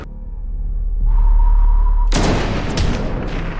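Gunfire and explosions in a war film assault on a remote military outpost, opening with a low rumble and a rising steady tone, then breaking into a loud, dense burst of shots and blasts that carries to the end.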